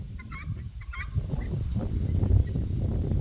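Guinea fowl giving loud, harsh alarm calls at a big bird flying overhead, a few honking cries early then a noisy cluster of calls close by with no talk.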